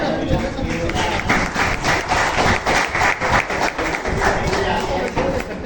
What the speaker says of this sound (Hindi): और एक बार जोरदार तालियां बजा दें।